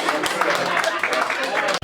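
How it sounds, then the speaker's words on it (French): Applause from an audience at a French end-of-year holiday celebration, a dense, loud, steady wash of clapping that runs for the whole two seconds. "Applaudissez alors."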